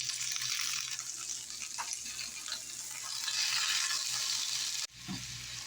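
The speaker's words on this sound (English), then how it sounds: "I'm using a small amount of garlic from the garden. I've already peeled it. I'm going to chop this up. And saute for 1 minute." Beet greens sautéing with garden garlic in a pan, a steady bright sizzle that holds throughout, then a brief clatter and a drop in the sizzle near the end, close and alone.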